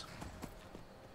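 Horse hooves clopping in Skyrim, a few close, distinct hoof strikes in an irregular walking rhythm over faint ambient game noise.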